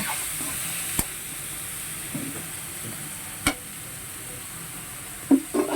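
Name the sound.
stirring and frying pansit bato noodles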